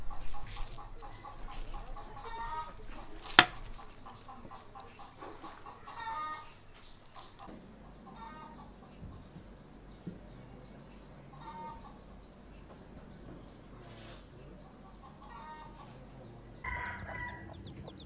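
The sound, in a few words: rooster crowing at dawn in a village in northern Laos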